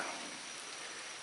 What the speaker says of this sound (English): It's trying to rain on me.